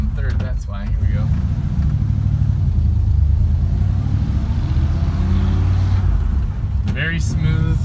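A 1950 Ford Custom 100 car drives slowly around a parking lot, its engine giving a steady low rumble throughout, with brief faint clicks near the start and end.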